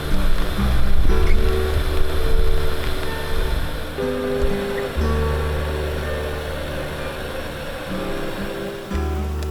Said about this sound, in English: I listen to the waves slowly breaking on the shore.